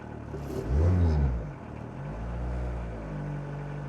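A Volkswagen Golf Mk1 engine that had sat unused for 12 years runs close by, surging into a loud rev early on, then settling to a steady, rough idle.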